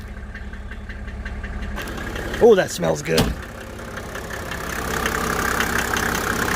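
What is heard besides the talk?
diesel engine clattering at idle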